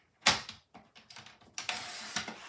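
Basic white cardstock is cut to size on a paper trimmer, giving a sharp slice followed by a few short scraping passes and clicks. The sounds are close and moderately loud, with no voices.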